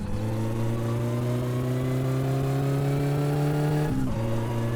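Loud car engine in the game My Summer Car, a strong steady drone with rising harmonic pitch as it revs, then a sudden dip near the end like a gear change, close and alone.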